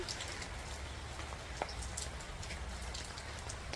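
Steady rain falls on potted plants set outdoors, a dense, even patter with scattered closer drops throughout and no voices.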